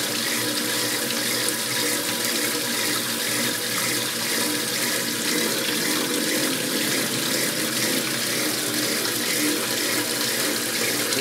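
Water runs steadily from a tap, a constant loud gushing splash with no pauses.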